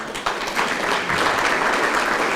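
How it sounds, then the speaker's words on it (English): Audience applause at a stand-up comedy show, a full, even burst of clapping that swells quickly and holds steady, loud and close, with no talking over it. "You could applaud"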